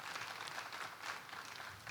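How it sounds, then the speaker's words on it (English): Dense, sustained applause from a conference audience at a career development summit in Lagos, steady and full throughout with no voices over it. "Please, can we give him another round of applause?"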